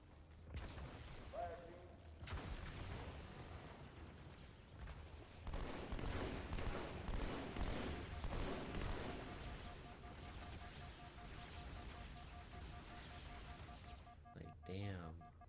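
Battle rifle gunfire in Halo 2 crackles in repeated bursts under constant game noise and explosions, with a voice talking over much of the action.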